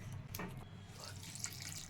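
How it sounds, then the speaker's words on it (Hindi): Cold tap water runs steadily over boiled noodles in a kitchen strainer, a soft continuous splashing hiss with faint drips, fairly quiet and close. "इसको ठंडा पानी से हम धुलते हैं।"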